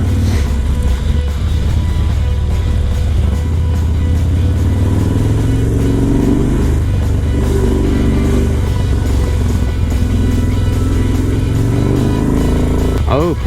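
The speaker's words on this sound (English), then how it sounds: "I love making noise in downtown. Exhaust echoes so beautifully." A motorcycle exhaust revving through downtown San Diego streets, a loud steady engine roar close by with rising and falling throttle and a voice talking over it.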